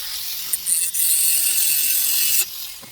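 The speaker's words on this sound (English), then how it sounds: "I've actually cut my screw down to size." Cutting a small 2.5 mm screw down to size makes a loud, close, harsh grinding burst that lasts about two seconds after a couple of brief starts, then cuts off sharply.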